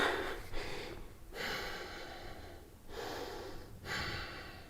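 Slow, deep breathing during a yoga stretch, soft airy exhales and inhales in long alternating waves, close and quiet with no talk.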